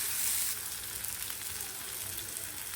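Tomato sautéing in a pan with turmeric for a karamani kulambu base, a steady close sizzle and hiss with faint stirring throughout.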